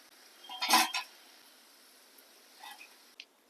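Metal utensils clatter against a pan and plate while fried cabbage pakodas are lifted out, one bright clink burst early, then quieter taps and scrapes later.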